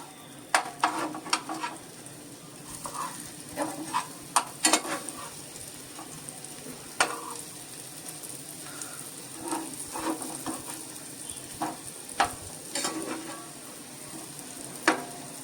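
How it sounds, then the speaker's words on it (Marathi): Breadfruit slices sizzle steadily in oil in a pan while they are turned over, with scattered clicks and scrapes of the utensil against the pan throughout; no talking. "आता हे जे काप आहेत ते आपण पलटून घेऊया"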